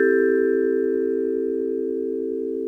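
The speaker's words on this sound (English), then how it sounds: "This is the vibraphone." A single vibraphone chord struck with mallets and held with the sustain pedal, ringing on as a pure, bell-like tone that decays slowly and stays loud over nearly three seconds.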